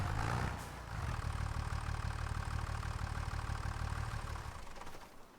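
Tractor engine idling in Farming Simulator 25, a steady mid-to-low rumble with a faint rhythmic knock, holding constant for several seconds before tapering off near the end, with no voices over it.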